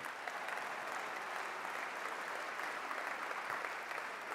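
Audience applause at a Sacramento State of the City address, a dense, steady clapping from a large crowd filling the hall, sustained and even throughout with no speech over it.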